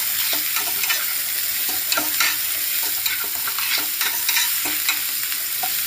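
Chopped onions frying and being stirred in a pan, a continuous close sizzle broken by repeated scraping and clinking strokes of the spatula.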